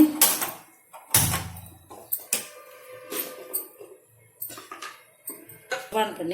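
A kadai pan is set down on a home kitchen stove, giving a few clanking metallic knocks and clinks of cookware spread through the clip, fairly close, with small handling noises in between.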